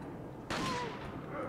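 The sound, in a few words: gunshot in the video game Resident Evil 4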